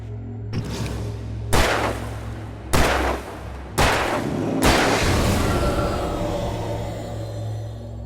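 Four heavy gunshots ring out one by one in Alan Wake Remastered, each a sharp, loud crack followed by a long, echoing decay, spaced about a second apart, with a low ambient drone underneath.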